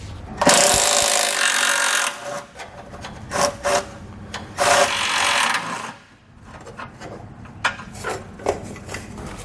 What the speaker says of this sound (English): So we're going to grab a 16mm socket and pull all 4 of those out on each side.